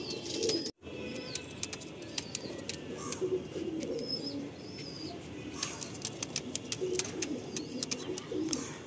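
Lalsira Kalsira Lambadi pigeons coo softly in a loft, with faint scattered chirps and a brief flutter early on over a steady low background hum.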